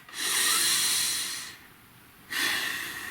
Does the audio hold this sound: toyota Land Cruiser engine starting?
no